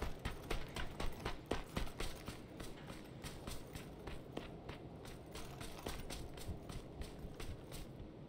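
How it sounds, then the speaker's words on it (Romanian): Footsteps in the PUBG battle royale video game patter in a quick rhythmic series, fairly faint and muffled against a low rumbling background, with no voices over them. "Am avut impresia că am auzit pași pe aici, pe aproape."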